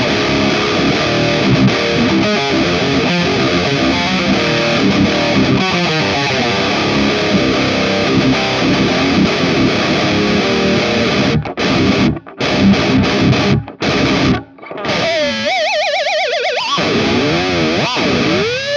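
Heavily saturated electric guitar through the ML Sound Lab Amped Oracle amp plugin, an Orange-style amp model, with a thick, full, continuous distorted tone. Loud riffing plays throughout, with brief choppy stops and gaps near the end.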